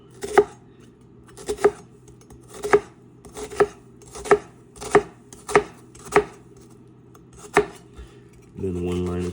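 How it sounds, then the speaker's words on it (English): A knife slices a series of lines into an onion on a cutting board for homemade lasagna: about nine crisp, evenly spaced chops, close and distinct, followed by a brief scraping rustle at the end. "Then we're gonna take our onion and we are going to make a bunch of lines,"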